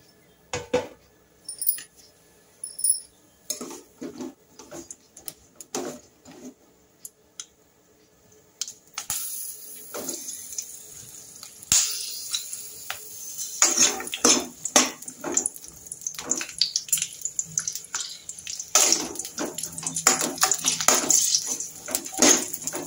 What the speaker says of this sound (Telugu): దీంట్లో పచ్చిమిర్చి అయితే వేసుకుందాం.